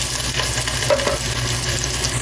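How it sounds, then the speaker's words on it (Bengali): Onions frying in oil for mutton biryani give a steady, close sizzle, with faint stirring scrapes now and then and no voices. "বেরেস্তা ভাজা চলছে, আর একটু বাকি আছে"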